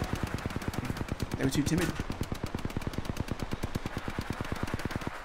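Rapid, evenly spaced automatic gunfire from a video game gun fired into the air hammers on steadily throughout, loud and close, with a short spoken remark over it partway through.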